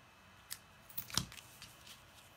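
Scissors trimming craft material decorated with sequins: a few soft snips building to one sharper close cut, quiet and near, with no talking.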